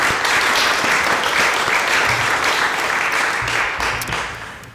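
Steady applause from a seated congregation at a memorial service, a dense sustained wash of clapping for several seconds that tapers off toward the end, with no speech over it.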